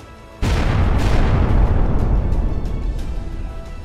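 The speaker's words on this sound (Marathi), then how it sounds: "दिल्लीतील लाल किल्ला परिसरात आल्यानंतर अवघ्या 30 मिनिटांनी कारचा भीषण स्फोट झाला" A car bomb goes off as a dramatized sound effect with a sudden heavy boom. Deep rumbling and crackling follow and slowly fade, and a few sharp secondary pops sound within the decay.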